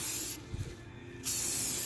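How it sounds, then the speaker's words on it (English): Aerosol spray paint can hissing in steady bursts while painting the front end of a 2009 Chevy Silverado black, with a brief pause mid-spray before the close, loud hiss resumes. "kind of want to start off of the object you're spraying and then finish off with a sweeping motion"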